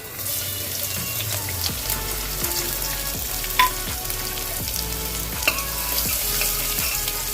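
Mustard seeds, cumin, fenugreek seeds, asafoetida, curry leaves and chopped garlic temper in hot oil for instant sambar. A steady sizzling hiss carries on under rhythmic soft ticks and occasional louder pops.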